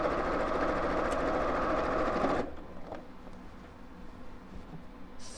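A sewing machine top stitching a pearl bead handle purse, running with a steady, close mechanical whir for about two seconds before stopping, then quiet room tone.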